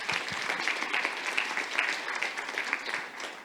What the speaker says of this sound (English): Applause for Sharon.